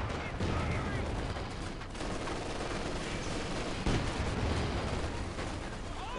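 Continuous dense battle noise from the video game Company of Heroes 2, with gunfire and a grenade blast in a 3 vs 3 match, steady and loud throughout.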